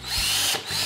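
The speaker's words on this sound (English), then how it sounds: "And I just do that with my drill." Cordless power drill whirring steadily as it bores holes through a metal corner bracket for a toadstool-style stool, a loud near whine with a brief dip before spinning up again.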